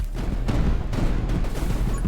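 Rapid, dense barrage of explosions from the video game 20 Minutes Till Dawn, a continuous rumbling stream of overlapping blasts that stays loud and steady throughout with no pauses.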